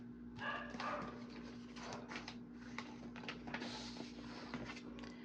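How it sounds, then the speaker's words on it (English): A pet dog barks in short, scattered yips from another room, faint and distant over a steady electrical hum, with no talking. "You might hear my dog barking."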